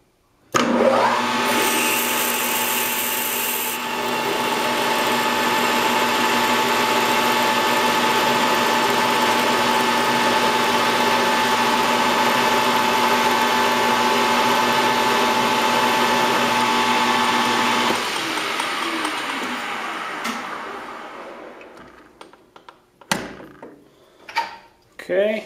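A metal lathe drilling a hole a size under the reamer, a loud steady whirring hum that runs unbroken for most of the stretch, then winds down into scattered clunks and handling noises.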